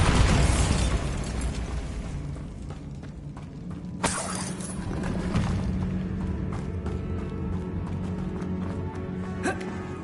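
Spell blasts in Hogwarts Legacy: a loud sharp burst near four seconds and another near nine and a half, set against a dense, constant wash of game noise and rumble.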